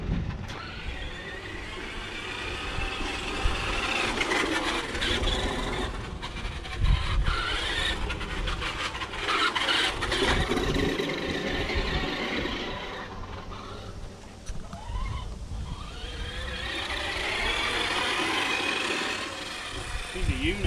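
Vintage Radioshack RC trucks, a Hummer, an Aftershock and an F-350, drive around with a continuous whining motor. The whine rises and falls steadily throughout while people talk over it.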